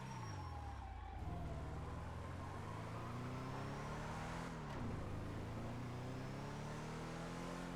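Emergency vehicle sirens sweep past over steady, loud road and engine rumble, with a wailing tone that dips as the vehicle passes close by.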